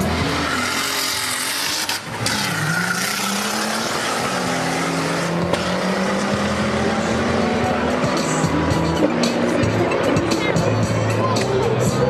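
A Yugo and a BMW race car, the Yugo with over 200 horsepower and the BMW around 250, roar through a race with engine drones shifting pitch, tire squeal, and crowd noise mixed with commentary.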